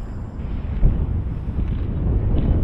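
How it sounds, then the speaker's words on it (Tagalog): Strong gusts buffet a city rooftop with a loud, continuous low roar of wind across the microphone, rising and falling slightly with no voices. "Sobrang hangin pala dito sa taas."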